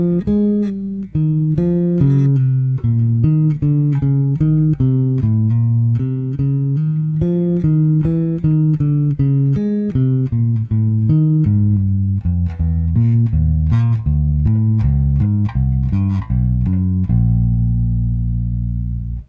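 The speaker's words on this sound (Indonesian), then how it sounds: "Kita main, coba main di bass, bass minor, bunyinya seperti ini." Bass guitar playing a fast jazz minor lick that mixes minor, dominant and chromatic notes, a steady stream of plucked notes for nearly twenty seconds, loud and close with no talking.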